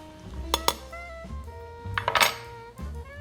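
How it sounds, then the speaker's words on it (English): Stirring a watermelon gin cocktail over ice, with a few sharp clinks and rattles of ice and spoon against the glass in uneven bursts, close and alone. "He then gives it a stir, not to dilute, or to cool,"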